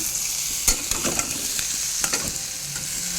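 Brinjal fry, vankaya, stirred in a pan on the stove: a soft continuous sizzle under irregular scraping taps of the spoon against the pan, close up, with no voices.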